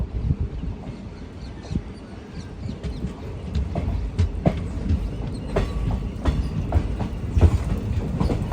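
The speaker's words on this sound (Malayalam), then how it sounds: "നെടുമംഗലം ജംഗ്ഷൻ ഇതാ ട്രെയിൻ എടുത്തിരിക്കുകയാണ്" The Chemmozhi Express pulls out of Needamangalam junction, its wheels clicking steadily over rail joints in a continuous rolling rhythm, with faint birds and a rooster somewhere outside.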